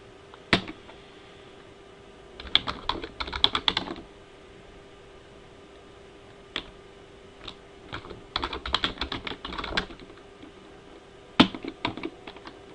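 Bursts of typing on a computer keyboard, close and clear, in several separate runs of rapid key clicks with short pauses between them, while a username is entered during a Linux install setup.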